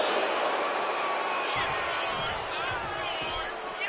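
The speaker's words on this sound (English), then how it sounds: "And Nia is revving this crowd up." A roaring arena crowd cheers for a women's wrestling match in the WWE 2K26 video game, a broad, steady wash of noise with a few thuds and bumps from the ring partway through.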